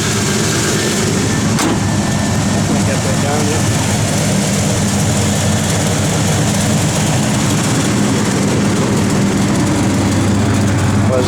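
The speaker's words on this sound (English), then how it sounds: "This car sounds good." A 1972 Chevrolet Nova SS V8 with a lumpy cam idles steadily and close by in cold weather, its low rumble running under people talking throughout.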